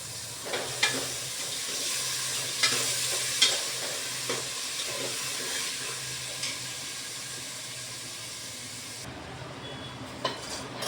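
Moth beans cook with turmeric in a hot pan, giving a steady, moderate sizzle with occasional stirring knocks and scrapes before it quiets near the end, and no talking.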